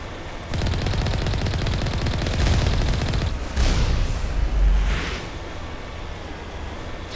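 Sustained automatic gunfire from the Mass Effect video game, dense rapid bursts rolling continuously at close range, with heavier thumps swelling midway and tapering off toward the end.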